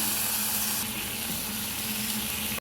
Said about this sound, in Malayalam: ഇതിലോട്ട് ടൊമാറ്റോ സോസ് രണ്ട് ടേബിൾ സ്പൂണ് ചേർത്ത് കൊടുക്കാം